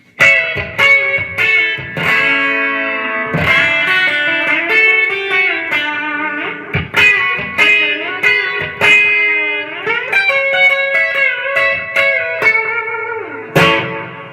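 A twangy electric guitar with a B-bender plays a phrase with notes bending up in pitch, alone with a bright, slightly overdriven tone and short pauses between runs.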